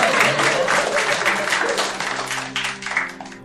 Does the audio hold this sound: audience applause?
yes